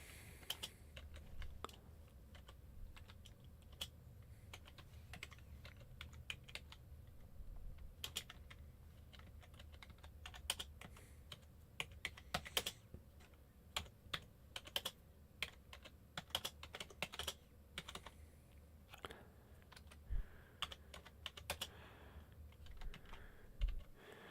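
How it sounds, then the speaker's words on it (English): A computer keyboard is typed on in irregular bursts of quick, soft clicks over about twenty-four seconds, close and fairly quiet, with short pauses between runs; no voices. "Show you like the typing sound."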